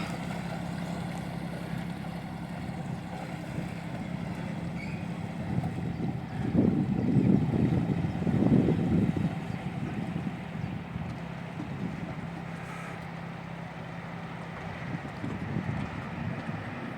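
A classic aft-cockpit motor cruiser underway on a Norfolk waterway, its low engine drone steady and moderately distant beneath wind buffeting the microphone, swelling briefly midway.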